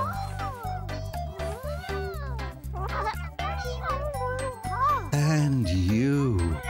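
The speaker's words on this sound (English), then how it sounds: "Oh, look! The ginger cat has had kittens." Several high, wavering cartoon kitten meows, close by, repeating in quick succession over a steady low hum, with a light tinkling in places.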